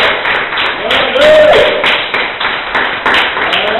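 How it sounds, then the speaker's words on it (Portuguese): A church congregation claps in praise to Jesus during a service, producing a loud, rhythmic run of steady claps with voices sounding over the beat. "Palmas para o Senhor Jesus."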